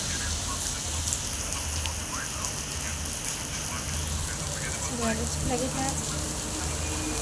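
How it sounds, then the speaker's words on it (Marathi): Heavy monsoon rain falls in a steady, dense hiss that continues unbroken throughout, with faint voices and murmurs buried in the background. "कसला मोठा पाऊस"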